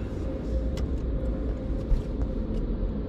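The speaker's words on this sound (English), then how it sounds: "My nigga Ace started to pull up." A Daytona car pulls up, its engine a steady, close, low rumble that holds evenly throughout, with a faint higher hiss above.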